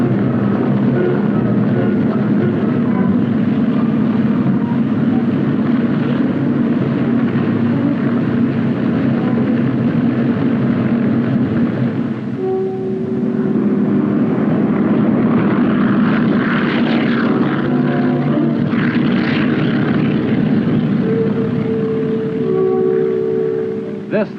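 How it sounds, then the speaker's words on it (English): Military helicopters airlift troops during a 1965 Vietnam War operation near Chu Lai, giving a loud continuous rotor and engine drone that holds steady throughout, with brief tonal whines rising over it late on. "Utilizing 3 centrally controlled helicopter squadrons, the men of the 3rd Battalion were airlifted to Landing Zone Oak"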